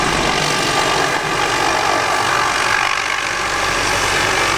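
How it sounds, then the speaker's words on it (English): Helicopter coming in to land on a pad at Brimstone Hill Fortress, St. Kitts, producing loud, continuous, broadband rotor and engine roar with a steady unbroken rumble throughout. "there's a helicopter coming in to one part of the fortress"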